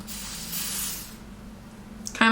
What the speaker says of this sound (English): I'm going to go ahead and go in with my lace spray and actually glue this wig down.